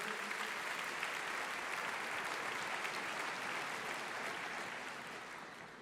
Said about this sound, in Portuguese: aplauda o teu Senhor